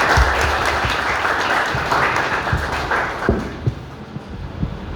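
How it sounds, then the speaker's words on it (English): A seminar audience gives a speaker a loud round of applause, steady dense clapping with a few sharp thuds, gradually thinning toward the end. "Please welcome Mr. Dominic with a big round of applause."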